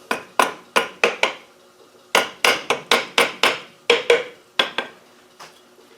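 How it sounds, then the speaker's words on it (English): Metal tapping on a gear part during an LT230 gearbox rebuild, about fifteen sharp ringing hammer strikes in quick bursts with short pauses between groups, close and clear. "Just tap that in a bit."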